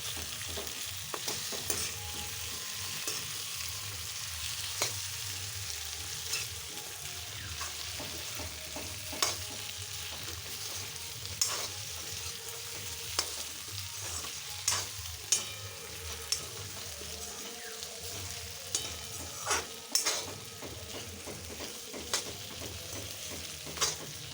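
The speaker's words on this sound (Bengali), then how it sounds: "সঙ্গে আদা রসুন বাটা এবার আমি ভালো করে নাড়াচাড়া করে নেবো" Ginger-garlic paste and slit green chillies fry in a pan for an egg curry with coriander, under a continuous sizzle, while a spatula stirs and knocks against the pan in irregular scrapes and taps throughout.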